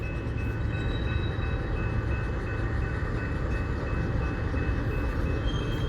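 BNSF freight train led by Dash 9-44CW locomotive 5368 rolling past near a diamond crossing, a steady loud rumble of engine and wagons holding throughout with a faint high tone above, no voices.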